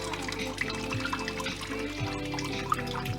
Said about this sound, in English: So now we're gonna add the cup of bleach. I'm gonna pour it in this cup.